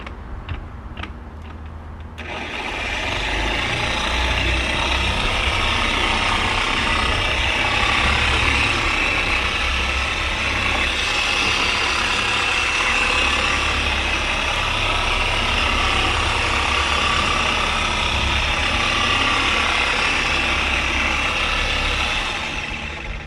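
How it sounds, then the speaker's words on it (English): A steady, loud machine whir from a Harbor Freight polisher buffing car paint for scratch removal runs continuously after a brief start at constant speed. "You want to start out at a slow speed with the buffer so it doesn't spray everywhere,"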